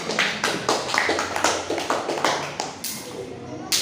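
A classroom of students claps for a group in a religious studies lesson, bursts of rhythmic, patterned clapping close by with voices mixed in.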